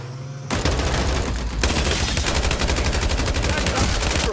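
Rapid automatic gunfire erupts after a brief quiet engine hum in the battle royale shooter game Farlight 84, loud dense bursts of shots continuing with short pauses throughout.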